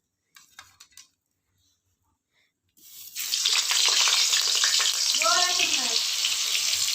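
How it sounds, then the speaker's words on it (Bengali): Potatoes drop into hot oil in a kadai over a wood-fired clay stove, bursting into a loud, steady sizzling hiss after a few quiet seconds of faint clatter. "কড়াই তেল দিয়ে দিয়েছি আমি আলুগুলো কষে নেবো"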